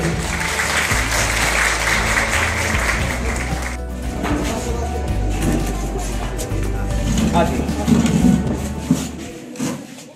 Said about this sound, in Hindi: ये हमारे जोरदार तालियां होनी चाहिए